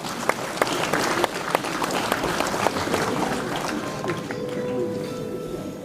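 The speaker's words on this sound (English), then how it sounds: "Huge round of applause to encourage the spirit of our artisans." An audience applauds artisans receiving prizes at a World Craft Council function in Srinagar; dense, fairly distant clapping holds for about four seconds, then thins and fades while a voice speaks.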